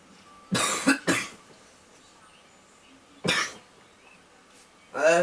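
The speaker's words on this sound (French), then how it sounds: "Je risque de tousser souvent." A man coughs in sharp, loud bursts close to the microphone: a quick double cough, a single cough after a pause, then the start of another, with quiet room tone between and no words spoken.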